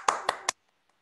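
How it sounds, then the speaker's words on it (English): Three sharp, evenly spaced hand claps ring out close by in a small group self-care session, then stop abruptly into near silence with one faint tap after. "Let me give you a warm round of applause"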